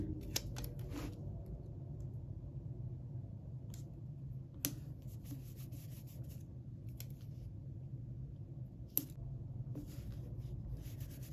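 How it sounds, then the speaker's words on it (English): Paper for a planner gets cut with scissors, sparse crisp snips and small rustles spread out over a quiet room with a low hum, near and fairly faint, nobody speaking. "I'm going to cut it this way."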